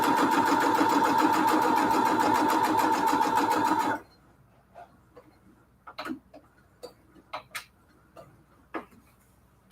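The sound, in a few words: sewing machine stitching quilt pillow case fabric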